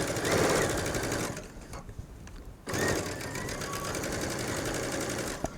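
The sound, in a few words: sewing machine stitching around a V-neck neckline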